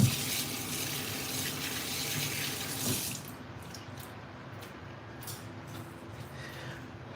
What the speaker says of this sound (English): Let me rinse these real quick.